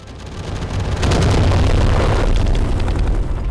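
A bomb detonating against the King Crawler in the Viking survival game ASKA, a loud close blast that swells after a second into a sustained heavy rumble and debris crackle.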